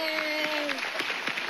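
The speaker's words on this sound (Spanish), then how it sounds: "un aplauso." Studio audience applause at a gold record award ceremony for a singer's first album, a brief steady burst of clapping with some overlapping voices.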